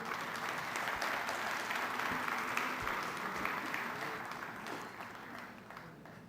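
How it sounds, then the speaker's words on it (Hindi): Audience at a mushaira applauding to welcome a poet, a steady dense wash of clapping from a large crowd that fades slightly toward the end. "भरपूर तालीम में इस्तक़बाल कीजिए आली जनाब जमाल ज़ुबैरी साहब।"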